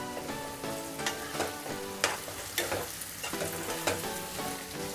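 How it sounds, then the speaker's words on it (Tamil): Egg sautéed with onion and capsicum in a pan gives a continuous close sizzle, with repeated spatula scrapes and knocks against the pan coming every second or so, no one talking. "இப்போ அந்த முட்டையை வந்து இந்த கூடவே வந்து சேர்த்து நல்லா வதக்கி விட்டுக்கலாம்."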